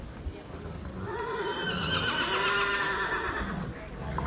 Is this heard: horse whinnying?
yes